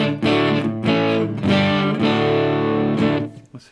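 A loud, distorted electric guitar runs through a Strymon Iridium and a JOYO Fender American pedal, playing several strummed chords in a steady rhythm over a few seconds and ending on a fading chord.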